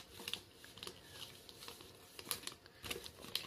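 Wrapping paper crinkles softly as it is folded around a gift, faint close rustles and crackles coming in small bursts with no talking.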